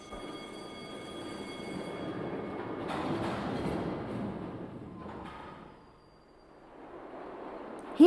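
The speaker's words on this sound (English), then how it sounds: "Here's one of the latest trains," A London Mail Rail underground postal train rumbles along rails in a tunnel, swelling louder then fading, with a brief screech near the end.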